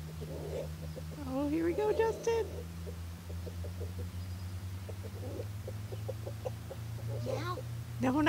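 A rooster clucks and crows in short bursts outdoors near cattle, fairly close, over a steady low engine hum while people talk quietly.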